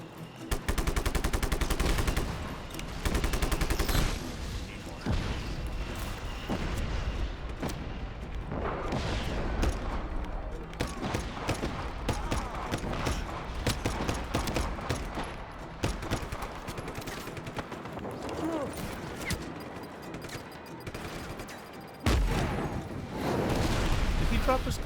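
Heavy gunfire and explosive bursts in the video game Just Cause 3, loud volleys in irregular clusters with short pauses, mixed with someone talking throughout.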